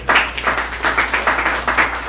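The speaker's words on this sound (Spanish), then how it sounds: "Dale un aplauso, Señor." A church congregation in Desert Hot Springs, California claps in a quick, regular rhythm, close and fairly loud, each beat sharp and evenly spaced as if clapping in unison.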